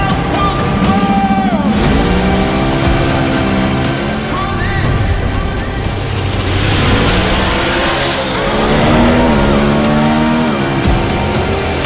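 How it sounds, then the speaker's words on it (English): Dodge and Chevy drag race cars launch at the NHRA Virginia Nationals, with loud engines roaring and revving up through rising gear pulls, close and dominant, with crowd noise underneath. "who wants to see the Dodge take down the Chevy?"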